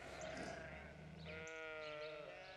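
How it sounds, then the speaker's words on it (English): Sheep penned on a farm bleat loudly and close, with overlapping wavering calls that run through the whole stretch and shift to a new voice partway. "I got the sheep pinned up, but I'm gonna need some help getting them in the trailer"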